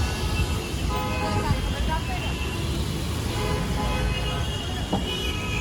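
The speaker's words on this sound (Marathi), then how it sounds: "सकाळी खूप ट्रॅफिक असते मुंबई पण" Dense morning road traffic in Mumbai at Nariman Point, a steady roar of engines with scattered horn toots that rise above the continuous wash of vehicles.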